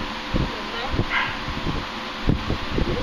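Dog giving short barks and whimpering yips in a quiet room, mixed with rustling and people talking softly nearby.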